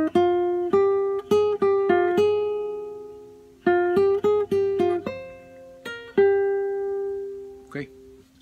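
Fingerpicked nylon-string guitar phrase from an Argentine song, played alone and close: a run of plucked single notes with slurs, pausing midway before a second similar run and a final held note.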